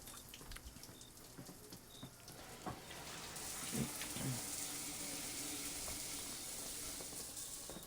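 Water running from a faucet for bathing, a steady rushing hiss that starts partway through and continues, mixed with faint background noise and clatter.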